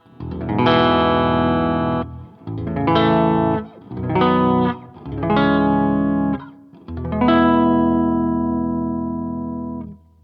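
A baritone six-string guitar with a deep, low register rings out clean, with five strummed chords each sustained for a moment before the next, the last held longest.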